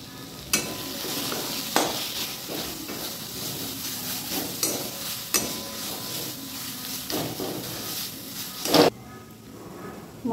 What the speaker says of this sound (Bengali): মশলাটা আমার কিছুটা কষানো হয়ে গেছে।